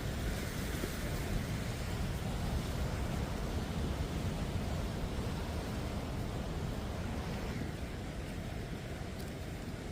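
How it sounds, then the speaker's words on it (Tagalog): Strong ocean waves crashing on a rocky lava shore in Hawaii on a rainy day, a loud, unbroken roar of surf filling the whole stretch, with no voices. "Malakas yung alon."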